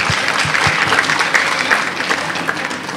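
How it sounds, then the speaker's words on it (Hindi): Audience applauds gold medalist Lakshita Sharma at a certificate ceremony, a loud, steady burst of clapping from a room full of people lasting a few seconds. "जोरदार तालियां लक्षिता शर्मा के लिए"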